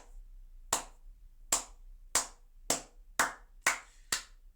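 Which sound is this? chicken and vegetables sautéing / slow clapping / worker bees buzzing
slow clapping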